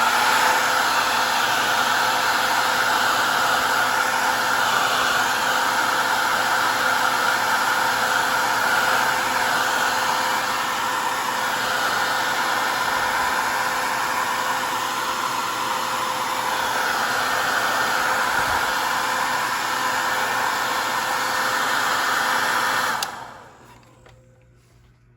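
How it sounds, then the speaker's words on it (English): A hair dryer heats a plastic wrestling action figure, blowing with a loud, steady whooshing hiss for a long stretch, then shuts off and winds down near the end. "Got our trusty blow dryer"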